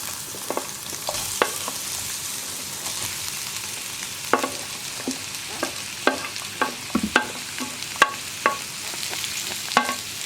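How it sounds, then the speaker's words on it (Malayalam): Sliced onion and green chilli frying in hot oil with ginger and garlic for a Kerala chicken dish, a steady close sizzle with scattered spoon scrapes and clinks against the pan, no voices. "ഇഞ്ചിയും വെളുത്തുള്ളി ഒന്ന് ചൂടായി വരുമ്പോൾ നമുക്കിതിലേക്ക് നമ്മൾ കട്ട് ചെയ്ത് വെച്ചിരിക്കുന്ന സവോളയും പച്ചമുളകും ചേർക്കാം"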